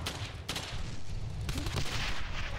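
A grenade throw amid dense gunfire in Brothers in Arms: Hell's Highway, with a steady roar of shooting and a few sharper cracks standing out from the continuous barrage.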